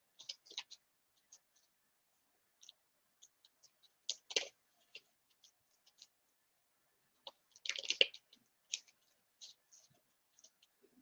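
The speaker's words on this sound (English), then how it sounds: "I'm going to give 3 shuffles" Tarot cards being shuffled by hand, heard as scattered soft clicks and papery riffles with two louder bursts of card flicking, close and quiet, no talking.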